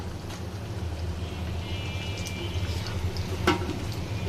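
French fries sizzle and crackle steadily in oil, a soft continuous frying hiss with an occasional brief clink, no talking.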